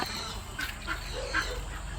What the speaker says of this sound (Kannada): ನೋಡಿ ಇಲ್ಲಿ ಇನ್ನೊಂಥರ, ಇದು ಡಕ್ ಅಂತ ಕರೀತಾರೆ, ಕ್ರೆಸ್ಟೆಡ್ ಡಕ್ ಅಂತ